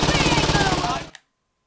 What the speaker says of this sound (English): Let's go submachine guns.